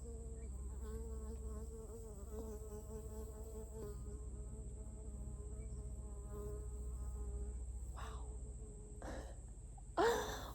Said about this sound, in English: or a native buzzing bee